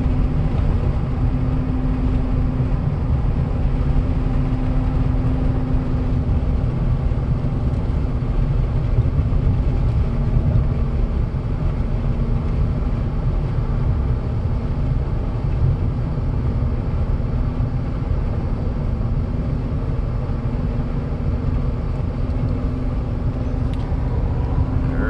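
A 2017 Chevy Silverado Z71 with the 6.2 V8 and a Corsa catback exhaust cruises with a steady, low engine hum and road rumble, constant and unbroken throughout with no talking.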